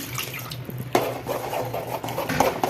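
Gram flour batter being poured into a metal mixing bowl while making street-style mushroom fry, a steady wet splashing pour with light clinks of the vessel, close up and without talk.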